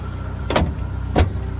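A well-preserved classic car idles with a low, steady engine rumble, punctuated by two brief, louder whooshing swells close by.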